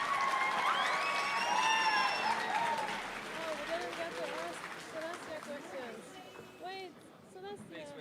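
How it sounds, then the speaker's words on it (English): An audience at a cosplay masquerade on a convention stage applauds, with dense clapping and cheering that fade over several seconds while voices and faint whistles carry through the hall. "Another big clap, ladies and gentlemen."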